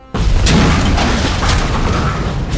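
Explosions in the RoboCop: Rogue City video game: a sudden loud boom erupts and rolls on as a dense, sustained blast with further bursts and crackling debris, alone without speech.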